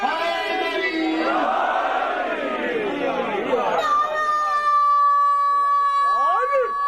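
A large crowd at a religious gathering shouts a slogan back in unison, a loud massed roar of voices that fades after a few seconds into a single voice on a sustained tone.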